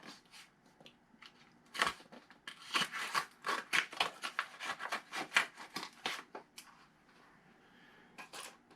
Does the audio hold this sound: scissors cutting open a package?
yes